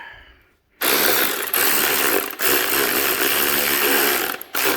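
A socket wrench ratchets on a washer nut during a custom Harley chopper build, giving loud, close, sustained runs of rapid clicking broken by a few brief pauses, with no talking.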